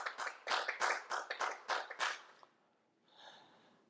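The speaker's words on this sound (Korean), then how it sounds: "우리 하나님께 영광의 박수 올리겠습니다." A church congregation at a worship service claps about a dozen loud, distinct claps close by, then stops. A faint murmur follows.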